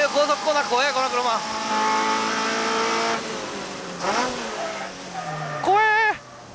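A Toyota AE86 engine revs and shifts through a fast corner, tone rising and falling with brief tyre squeal as the car bounces, while someone talks over it.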